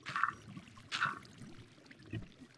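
Water in Minecraft gives two short gurgling, pouring bursts followed by a faint trickle, quiet and spaced out with no speech over them.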